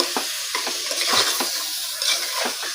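Basmati rice with masala is stirred and fried in a pan, a loud steady sizzle broken by repeated scraping strokes of the spoon, close up with no voices.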